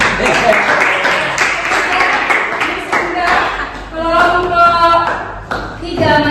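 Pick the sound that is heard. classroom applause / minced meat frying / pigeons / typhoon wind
classroom applause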